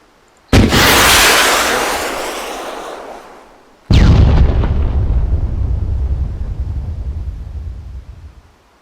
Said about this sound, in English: So I've got 2 rounds. Let's blow 2 things up.